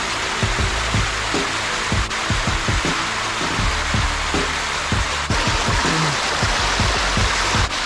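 Mini waterfalls and a stream rushing through Thai jungle, a loud continuous roar of falling water close by with splashy gurgles throughout, no voices.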